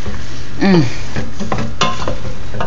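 Mushrooms softening in a pan for turkey tetrazzini give a steady low sizzle with scraping stir noises throughout, and a short voiced sound rises briefly near the start.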